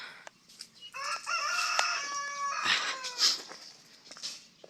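A rooster crows nearby, a long drawn-out call, followed by another crow and some clucking from fowl in the background. The rooster is a derby fighting cock.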